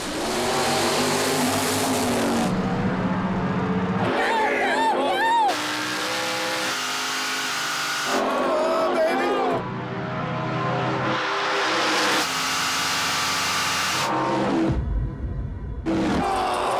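Drag race between a 1970 Opel GT and a 1967 Nova at a Texas strip, with loud continuous engine roar and revving that cuts and resumes repeatedly, heavily mixed with a commentator's talk.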